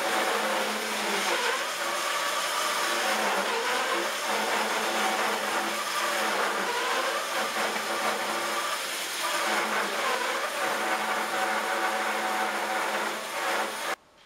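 A band saw runs continuously through wood pieces being cut for veneer, giving a steady loud whine and roar with slight shifts in pitch as the blade works through the board, then stopping abruptly at the end.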